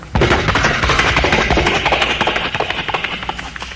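A voice rapidly imitates galloping hooves, a dense, loud run of percussive clicks and pops in steady rhythm, close up and without words.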